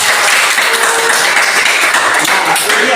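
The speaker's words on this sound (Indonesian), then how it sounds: "Ya, tepuk tangan." A classroom of students at a vocational high school claps together in steady, continuous applause, a dense patter of hands filling the whole moment at close range.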